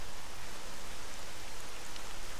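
A constant hiss of rain in the video game S.T.A.L.K.E.R.: Call of Pripyat, an even, unbroken wash with no voices over it.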